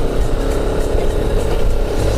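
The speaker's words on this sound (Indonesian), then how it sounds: "Ini motor-motor petani kayak ini." Farmers' motorcycles pass on a hillside road near terraced fields, a loud, steady engine drone with slight revving that fills the whole moment, close by.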